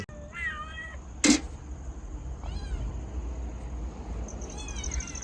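A cat meows several times close by before being fed milk, short rising cries spread across a few seconds with a brief sharp knock between them and faint background hum.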